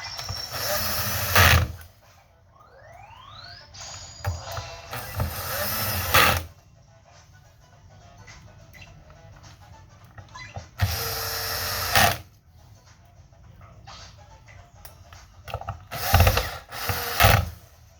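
Screwdriver bit skipping and ratcheting on the black screws of an Xbox Series X console, heard as several loud bursts of rapid clicking and grinding separated by quieter handling noise and small clicks.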